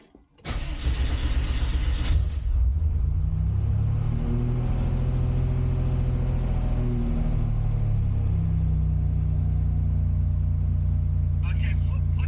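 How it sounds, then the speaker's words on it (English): Buick Grand National engine cranks briefly and catches, then settles into a steady, loud idle with a deep low rumble that holds for the rest of the clip, with no talk. "now let's go ahead and start the car up now"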